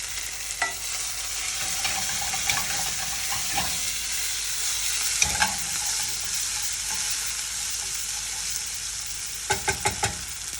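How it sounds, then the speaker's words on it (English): Canned white beans cooking in a pot with browned shallots and garlic, a continuous soft sizzle with scattered stirring clinks and a quick run of taps near the end, no talking. "Let's get the beans into the pot."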